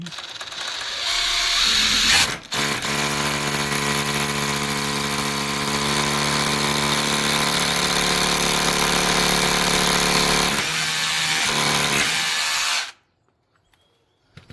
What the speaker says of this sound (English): Now if you get your drill, I'm just going to go through this one first for ease